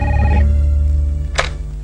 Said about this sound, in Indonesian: Sita, ada telepon di line 2, tolong diangkat ya